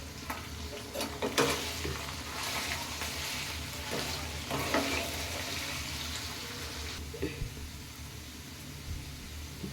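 Chicken pieces sizzle and fry in hot oil for gongura pickle, a steady close crackle broken by scraping stirs of a spoon in the pan, with no talking.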